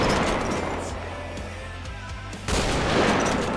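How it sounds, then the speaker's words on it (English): Heavy sniper rifle fire in the GTA V video game, heard as dense, loud, booming game gunfire and blasts that fill the clip, with a sharper burst near the end. "the heavy sniper. Let's try that once."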